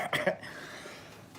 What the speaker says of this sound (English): It's just me coughing.